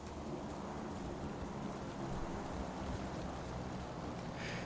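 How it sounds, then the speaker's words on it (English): Rain in the PlayerUnknown's Battlegrounds video game: a steady, dense hiss of rainfall with a low rumbling wash beneath, constant and enveloping throughout, with no voices. "That's rain."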